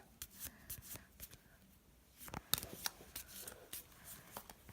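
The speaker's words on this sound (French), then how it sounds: "Et après, les deux paquets, vous allez les mélanger." Two packs of playing cards being shuffled, soft riffling bursts and ruffles close by and fairly quiet, coming in short irregular runs with a few sharper card snaps.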